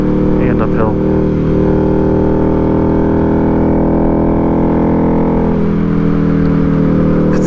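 A car engine pulls steadily uphill in third gear on a mountain pass, a loud, close, even drone with a constant pitch throughout.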